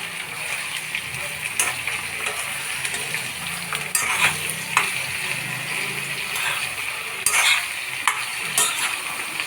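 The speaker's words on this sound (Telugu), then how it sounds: "మొత్తం ఆయిల్ అంతా ఈ ముక్కలు పట్టేస్తూ కలుపుకుంటే అప్పుడు అన్నీ సమానంగా ఫ్రై అయిపోతాయి" Bitter gourd pieces fry in oil while being stirred, giving a steady close sizzle broken by repeated scraping and clinking strokes of a utensil against the pan.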